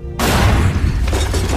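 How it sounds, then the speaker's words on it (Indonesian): In a film, a sudden loud gunshot bursts out of silence as a sharp, broad blast, then its heavy booming echo rumbles on and slowly fades. "Tiba-tiba, suara tembakan terdengar."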